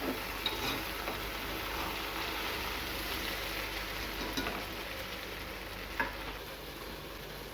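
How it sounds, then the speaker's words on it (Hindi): Okra (bhindi) fries in a little oil with a steady, even sizzle. A few faint clicks from stirring come through, and no one talks. "इसलिए मैंने इनको थोड़े से ऑयल में बिल्कुल फ्राई किया है।"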